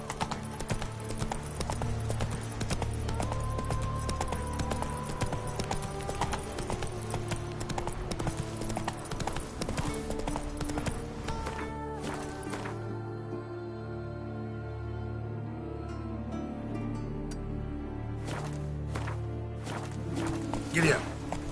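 Hooves of Roach, the horse in The Witcher III, clip-clop in a rapid steady gallop under game music and ambient sound, with a voice speaking over the hoofbeats.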